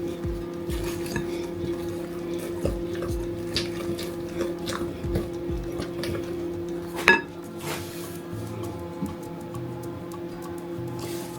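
A spatula or spoon scraping and knocking around a mixing bowl of apple cake batter, with repeated clinks and scrapes at an uneven rhythm, close and fairly quiet.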